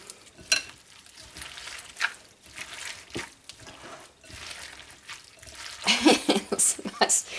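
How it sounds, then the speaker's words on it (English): Ripe tomatoes squashed by hand for a lacto-fermented salsa, giving wet squelching and juicy squishing in irregular bursts, louder near the end, with light talk over it. "Just squash it up. You want to get the juices out of the tomatoes."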